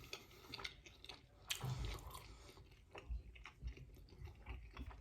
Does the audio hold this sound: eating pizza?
yes